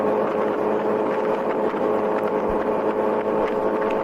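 A 2019 Honda CBR1000RR SP1 motorcycle rides away, engine humming steadily at moderate volume under continuous wind and road noise, with no talking.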